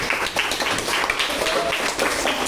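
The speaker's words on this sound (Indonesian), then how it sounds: "tepuk tangan semuanya" Students in a classroom clapping for a group's poster presentation, a short burst of scattered, fairly close hand claps at moderate volume.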